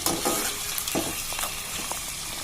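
Green chili pieces fry for palak paneer biryani, making a steady loud sizzle and crackle throughout, with a few soft stirring knocks and no talking.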